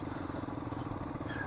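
A motorcycle ridden slowly up a rough, bumpy uphill road, its engine putting along steadily and close by for a brief moment.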